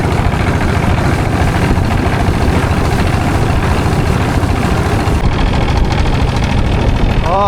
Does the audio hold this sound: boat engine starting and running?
yes